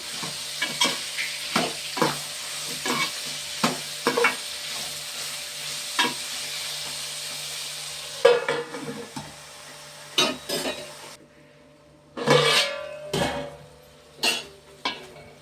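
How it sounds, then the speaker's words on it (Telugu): Vegetable pieces fry in a pan with a steady soft sizzle, while a spoon scrapes and clanks against the pan in repeated uneven strokes. It sounds close, with no talking. "ముక్కలు వేగుతున్నాయి కదా, వేగి మగ్గుతాయి."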